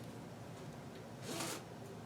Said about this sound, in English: the all the way across zipper and the small zipper.